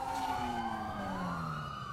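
A police van siren in a video game wails with a rising and falling tone, loud and close, sweeping steadily over a low background with no talk.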